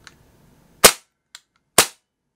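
A Tokyo Marui USP9 gas blowback airsoft pistol fires two sharp, loud close-range shots about a second apart, each with a quick metallic slide clack, plus a small click between them.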